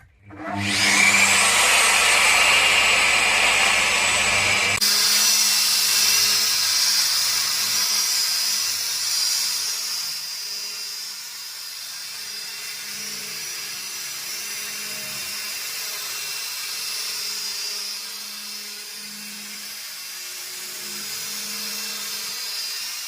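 A budget machine polisher buffs polish off car paintwork, a steady high-pitched motor whine with a sharp start that settles into a continuous hum, close and loud, no talking.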